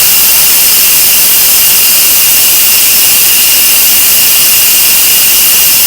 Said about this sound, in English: put this on venting, and what's gonna happen is the steam is gonna release and it's gonna let all the pressure out